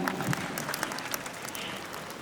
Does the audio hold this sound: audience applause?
yes